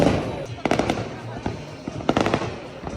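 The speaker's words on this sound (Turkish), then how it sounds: "Patlamalar hala devam ediyor." New Year's fireworks bursting in Russia, a string of sharp cracks and bangs in clusters, several close together, over a steady crackling background with a voice talking.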